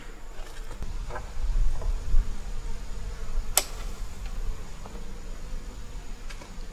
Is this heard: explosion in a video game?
no